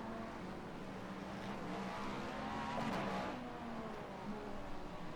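A BMW in a European Sprint Car Challenge racing video game locks its brakes into a chicane, with a brief tire squeal over a steady, droning engine that swells near the middle.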